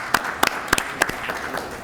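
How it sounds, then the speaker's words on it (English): Sparse clapping from a small audience at a board of education meeting, a handful of distinct claps rather than a full ovation, brief and moderately loud. "Let's give him a round of applause."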